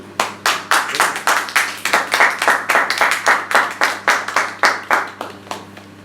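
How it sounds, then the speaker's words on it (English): A Toastmasters meeting audience breaks into steady applause, many hands clapping in a dense, even patter that stays loud for the whole stretch with no talk over it. "Can we have a huge round of applause for Siddharth?"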